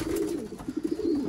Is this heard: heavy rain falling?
no